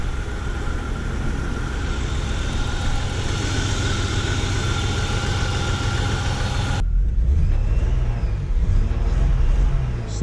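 A BMW E36 engine idles a little rough, a steady close mechanical drone with a faint uneven pulse that holds throughout, its tone shifting partway through.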